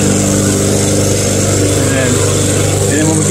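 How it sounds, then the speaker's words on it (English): A Snapper self-propelled lawn mower engine runs steadily and loudly up close, a continuous droning hum with no pauses throughout. "So that's how you start a mower, that's how you stop it."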